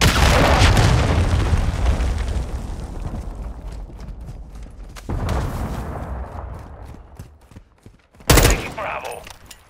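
A cruise missile strike exploding in Call of Duty: Modern Warfare II, opening with a loud heavy boom that rolls off into a long rumbling decay, followed by distant gunfire and a sharp nearby blast near the end.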